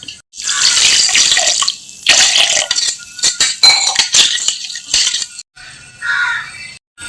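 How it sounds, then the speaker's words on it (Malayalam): Water is poured from a glass into a jar of ground drumstick leaves in several close, splashy bursts separated by brief pauses, with light clinks of the vessels. "1 ഗ്ലാസ് വെള്ളം കൂടി ഒഴിച്ചിട്ട്."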